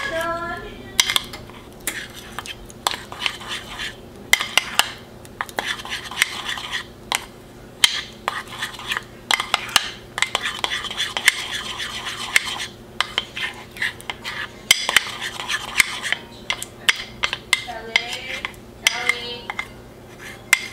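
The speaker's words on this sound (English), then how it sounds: "Then you just mix the milk into the cream cheese, butter, and the icing sugar." A utensil clinks and scrapes against a bowl while milk is mixed into a cream cheese, butter and icing sugar glaze, with rapid uneven strokes and sharp taps repeating close up throughout.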